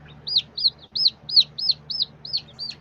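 Young chicks peeping in a steady run of about nine bright, rising chirps, close and clear over a low background hum.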